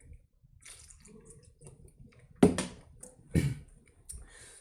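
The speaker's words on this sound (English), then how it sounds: "let me drink some water" A person drinks water indoors, quiet gulping and swallowing with two louder gulps near the middle and small wet sounds between, close to the microphone.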